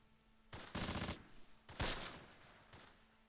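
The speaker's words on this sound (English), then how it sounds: "Draw machine gun fire from the east." Machine gun bursts from the Close Combat war game, set near Grafwegen during the Arnhem battle of 17 September 1944, sound as three separate short rattling volleys, loud and close, with quiet between them and no speech.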